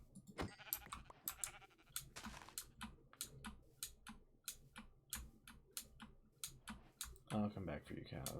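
Sheep bleat in the Minecraft video game, short cries heard under steady, rhythmic computer keyboard typing and clicking, with a voice talking.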